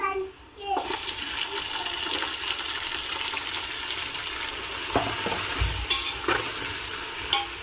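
Tomato pieces fry with browned onions in a pan for mutton pulao, a steady close sizzle with stirring scrapes and small bursts, running alone without talk.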